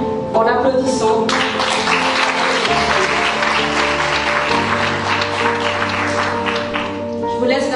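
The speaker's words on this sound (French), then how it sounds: "je vous demande de l'accueillir en l'applaudissant." An audience claps steadily in a hall to welcome a guest speaker at a talk on NLP, the dense applause rising sharply after a brief quiet start and holding over sustained background music.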